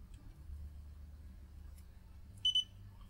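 An AlienTek DM40-series scope meter sounds its diode-test beeper: after a low background hum, a sharp high-pitched double bleep rings out close and clear near the end.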